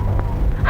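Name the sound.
dog barking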